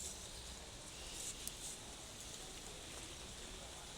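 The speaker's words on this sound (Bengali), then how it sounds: "আমাদের এখানে বৃষ্টি পড়ছে" Rain falling in Italy, a faint, even hiss of drops on surfaces, steady and continuous with a brief tap near the middle.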